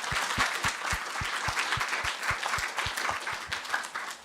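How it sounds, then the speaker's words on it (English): Lecture audience at a programming languages conference giving a big round of applause, a dense, even patter of clapping with a regular thumping beat underneath, sustained throughout. "give them all, I know there are others in the audience, a big round of applause"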